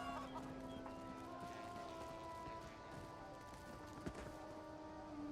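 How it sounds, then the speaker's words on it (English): A chicken in The Elder Scrolls Online gives faint, soft clucks amid a quiet ambient game backdrop with steady tonal hum, one sharper cluck near the end. "Fast-moving chicken."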